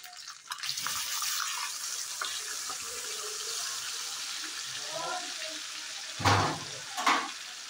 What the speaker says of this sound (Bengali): তেলটাতে আমি মশলাটা দিয়ে দেবো।